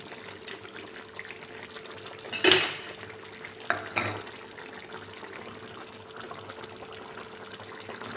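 A spoon stirs a Bhogi mixed vegetable curry cooking in a pot, giving two or three distinct metallic clinks and scrapes over a soft, steady background hiss, with no talking.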